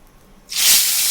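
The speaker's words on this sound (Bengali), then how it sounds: "মাছ এক এক করে সব ছেড়ে দেবো" Puna fish hit hot oil in a wok: after a quiet start, a sudden loud burst of sizzling hiss erupts and holds steady to the end.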